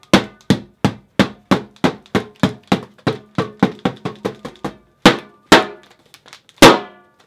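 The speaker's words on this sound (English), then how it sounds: "It sounds like metal hitting together." Sharp metallic clanks ring out in a quick, regular series of about a dozen strikes, then a few slower, louder hits with ringing tails.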